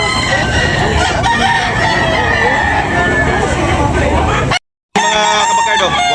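A Hulsey Grey gamecock rooster crows loudly and close, a long cock-a-doodle-doo with clucking hens and crowd babble around it, followed by a brief cutout and another crow.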